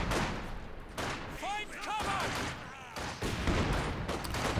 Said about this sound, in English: There's this barrage coming in here.